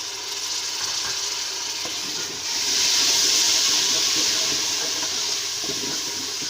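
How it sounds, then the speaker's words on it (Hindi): Loud hissing sizzle as water is poured into frying spices in a hot pan while cooking moong dal, swelling midway and then settling into a steady bubbling fizz. "अब थोड़ा सा मैं इसमें पानी डालूंगी"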